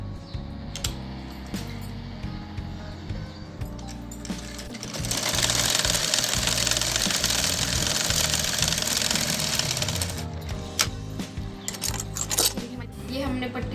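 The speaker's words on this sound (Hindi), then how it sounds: "अब एक सिलाई हम यहाँ पर लगाएंगे।" Electric sewing machine running a sustained stitching burst on a kurti, starting after a few seconds of quieter handling and motor hum, loud and steady, then easing off near the end.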